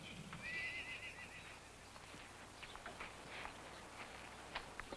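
Gentle trail horses whinny in a high, wavering neigh near the start, followed by scattered hoof clops and stamping in an outdoor Western setting, with low ambient noise throughout.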